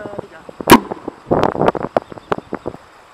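A homemade alcohol cannon built from scrap fires once with a single sharp, loud bang, then people talk briefly in the open air.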